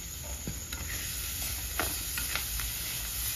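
Chopped tomatoes and green chillies sizzle in hot oil for a chicken liver fry, a close, steady frying hiss broken by a few sharp stirring scrapes and clacks of a spoon in the pan.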